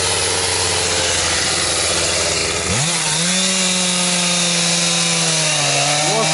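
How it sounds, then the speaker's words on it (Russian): A chainsaw roars at high speed, then drops in pitch as the chain bites into firewood, grinding steadily through the cut in a forest. "Вот что значит пила мощная"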